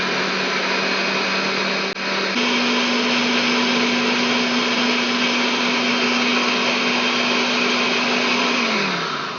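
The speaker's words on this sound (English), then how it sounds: "I'm gonna let this blend a little more" A blender whirs steadily as it purées yucca masa with oat milk, a loud, continuous motor drone that shifts pitch slightly partway through and winds down at the end.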